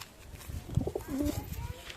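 A pigeon coos softly a few times, close by, with a faint murmur of voices in the background.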